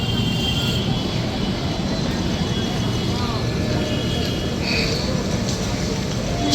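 A diverted express train rumbles past Belgharia station with a continuous rolling clatter of wheels on rails, and a few brief higher squeals rise over the steady noise.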